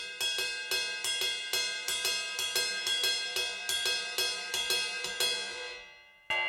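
A cascara pattern for a samba groove played on drums, a steady syncopated run of bright, sharp clicking strokes with accents, loud and close and alone, ending with a decaying ring and one last hit.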